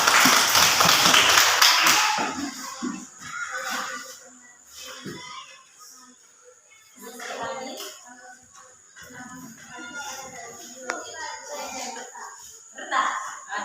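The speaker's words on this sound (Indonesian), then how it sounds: "tepuk tangan lagi" Children clap their hands together in an elementary school classroom at SDK Welu, a lively burst at the start that fades, followed by children and a teacher talking with scattered taps and a few more claps near the end.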